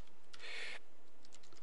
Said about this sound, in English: go ahead and type like 5 random words like apples